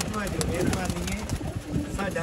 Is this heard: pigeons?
yes